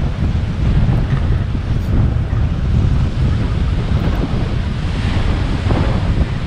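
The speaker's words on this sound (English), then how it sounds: "You can see the waves breaking on it when the seas are heavier." Waves breaking on a reef off a Cuban beach at Playa Esmeralda, a loud continuous roar of surf mixed with heavy wind buffeting on the microphone, steady throughout with no voices.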